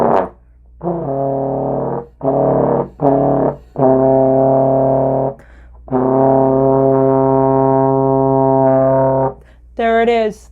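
Band instruments sounding a sustained concert C tuning note in a school band setting, several held buzzy brass tones separated by short gaps, loud and close, with a brief higher tone at the end.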